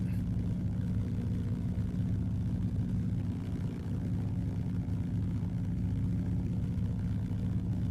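Steady droning radial piston engine of a de Havilland DHC-2 Beaver floatplane taxiing, a continuous low rumbling hum heard close from the cockpit, even in loudness throughout.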